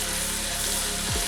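Ginger garlic paste frying in hot oil for restaurant-style vegetable pulao gives off a steady, close hiss and crackle throughout, with a brief low clatter near the end.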